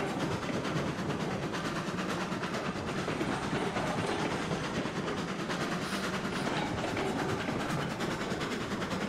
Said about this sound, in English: Not only pulling the carriages, but it's also pulling another train.